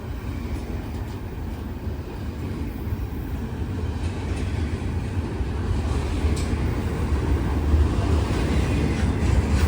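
A freight train pulled by a single 4000 HP locomotive rolls past in a steady, dense rumble. Wheel and car noise builds slightly over the span, mixed with wind buffeting the microphone, with no voices.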